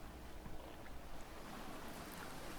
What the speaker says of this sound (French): il se peut que tu entendes le vent, ce souffle, ce sifflement plus ou moins lointain qui peut-être se mêle au chant de la mer